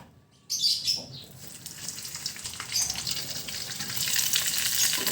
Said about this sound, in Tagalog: Prituhin na natin itong ating pork head.